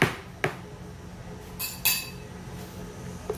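Herbal black soap ingredients being mixed in a bowl, giving a few light clinks and scrapes at irregular moments, quiet and close, with no voices.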